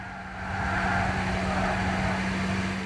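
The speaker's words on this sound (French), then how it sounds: "Oh mon dieu, le bruit des pneus quoi." In-game Gran Turismo 6 race car tire squeal rides over a steady engine drone, a continuous screech that swells in after half a second and holds loud for the rest, with no one talking.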